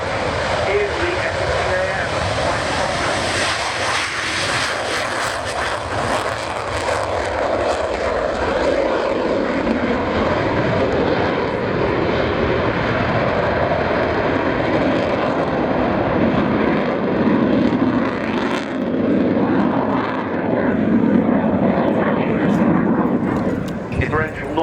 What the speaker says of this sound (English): as marked on the side of the specially painted Apache, is the 100th anniversary of the Dutch solo display item. Here he goes, it's Captain Stefan Stitchhook